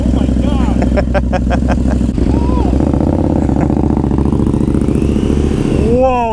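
A KTM 1290 Super Adventure R motorcycle engine runs loud and close, revving and clattering as the bike pulls away, with people talking over it.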